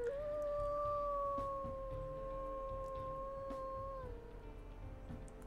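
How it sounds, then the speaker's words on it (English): A gray wolf in the video game WolfQuest gives one long, steady howl, a clear sustained tone held about four seconds before dropping off, loud over a faint background. "his second howl kind of sounds a little bit lonely"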